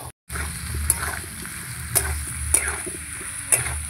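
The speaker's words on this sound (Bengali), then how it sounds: "এই যে এবার খুব ভালো করে মশলাটা কষাবো," Spice paste frying and sizzling in a pan for a prawn curry with taro and potato, a steady low crackle broken by a few sharp scrapes or stirring clanks, close and without talk.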